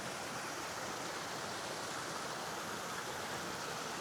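Rushing stream water in a Colombian town, a steady broadband roar that stays loud and unbroken throughout, with no voices over it.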